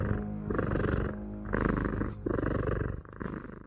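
A cat purring loudly and close, in long rhythmic rumbling bursts that swell and pause with each breath, no talking over it.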